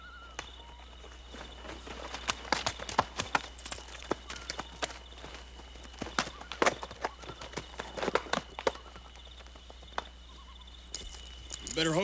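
Horse hooves clip-clop at a steady walk, crisp irregular knocks at a moderate distance over a low steady hum and faint insect chirps outdoors at night.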